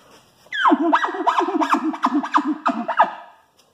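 An imitated elk bull chuckle: a rapid series of guttural, grunting pulses, about seven or eight in quick rhythm, close and fairly loud.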